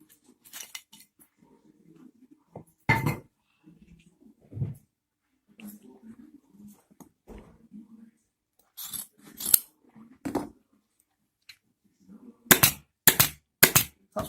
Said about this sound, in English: Staple that.